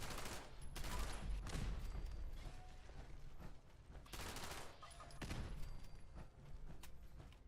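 Turret gunfire in the Fallout 76 video game, sustained bursts of rapid shots with brief lulls between volleys, fairly loud and dense.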